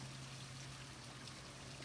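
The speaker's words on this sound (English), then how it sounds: "this is our creek. It's flowing pretty good." A tiny backyard creek flowing steadily, a constant soft rushing trickle of water, faint and unbroken with no voices.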